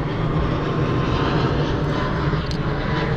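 A fixed-wing airplane passes over near an airport on the big island of Hawaii, its engine drone steady and loud throughout, filling the air with a broad continuous roar.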